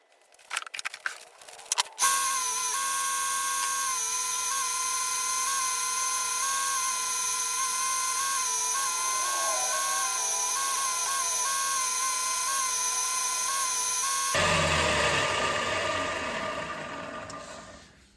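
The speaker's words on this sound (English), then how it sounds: "we're going to clean up the scale off the blade with this polishing wheel" A polishing wheel grinds scale off a steel froe blade, a steady high whine with a bright metallic tone. It holds evenly for about twelve seconds, then shifts to a harsher, broader grinding scrape near the end.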